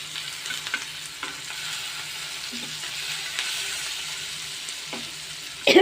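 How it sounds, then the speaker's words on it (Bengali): Spiced koi fish frying in hot oil with green chillies, a continuous close sizzle with soft scraping clicks as the pieces are turned over, and a sharper crackle at the end. "মাছ আমার এক পিট ভাজা হয়ে গেছে এখন আমি আরেক পিট উল্টিয়ে নিব"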